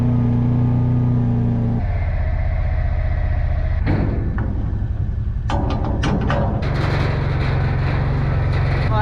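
A truck idles and drives off on the way out to a farm field, its steady engine rumble rising as it pulls away, with a few clunks and rattles partway through and no talking.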